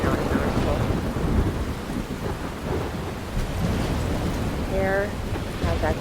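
Rain pours steadily with low rumbling thunder in the video game Life is Strange Remastered, a dense, continuous wash of sound from start to end.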